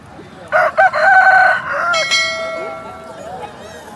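A rooster crows loudly and close by at a rooster market, one long drawn-out call with a rising start and a wavering tail, other faint farmyard sounds in the background.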